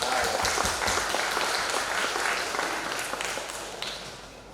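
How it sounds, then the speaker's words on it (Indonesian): Enthusiastic applause fills a church wedding blessing ceremony, a dense, steady clapping from a crowd that carries on for several seconds before slowly easing off. "Kita berikan tepuk tangan yang meriah."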